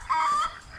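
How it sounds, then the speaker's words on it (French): A single short, close cheep or cluck from young chicks in a farmyard pen, quickly trailing off into quiet. "maintenant, il faut s'occuper des poussins"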